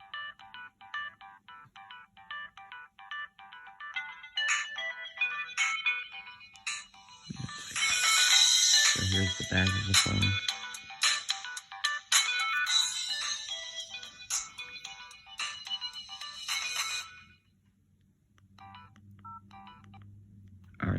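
An AT&T Samsung Galaxy S3 phone plays a melodic electronic ringtone, a run of bright repeated tones that swell into a fuller, louder passage for several seconds before stopping, with quiet talk near the end.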